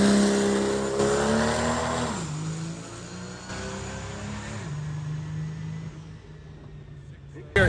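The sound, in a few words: diesel drag truck engine warming up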